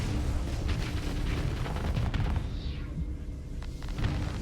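Continuous rumbling booms and bursts of ship weapons fire and explosions in the space combat game Starsector, dense and loud throughout without a break.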